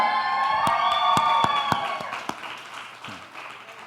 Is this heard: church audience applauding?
yes